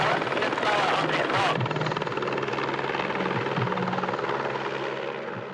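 A rescue helicopter hovers close beside a rock face in strong wind, its rotor beating loud and steady throughout.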